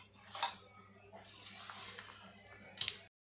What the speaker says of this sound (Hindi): गुड़ काट लिया था बारीक, उसे अभी ऐड कर लेंगे उसी में, मिक्स कर लेंगे इसे